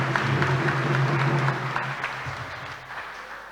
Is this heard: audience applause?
yes